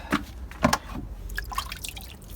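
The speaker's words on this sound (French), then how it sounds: "Je vais rajouter un peu d'eau." Water poured onto dry compost prepared for worms, a few quick splashing drips and trickles landing close by in short bursts, then softer scattered patters.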